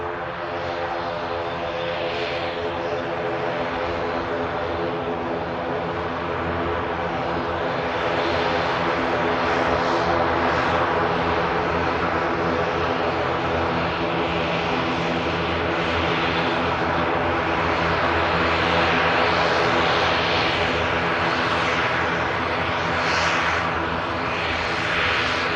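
Airliner operated by Emerald Airlines at Manchester Airport, a loud steady engine roar with a low droning hum that swells slightly midway and holds throughout, heard alone without talk.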